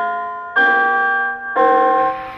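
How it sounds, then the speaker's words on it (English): A Missouri electronic outdoor tornado warning siren plays its monthly test chimes. Two loud, sustained bell-like tones ring out about a second apart, each holding steady before fading, with no voices. "This is what's heard during the monthly test, chimes"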